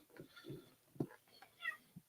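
A house cat gives several short, quiet meows and chirps in a row, close and soft, with small pauses between calls in an otherwise quiet room.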